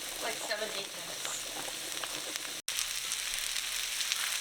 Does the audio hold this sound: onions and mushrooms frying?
yes